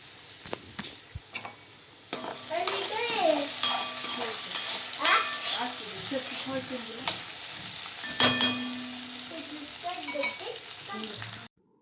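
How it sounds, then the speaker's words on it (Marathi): Potatoes sauté in a kadhai for sabudana khichdi, a soft sizzle under repeated scraping and stirring strokes, with a ticking, clattering rhythm and a few louder knocks. "तर बघा बटाटा ही छान परतलं होतं"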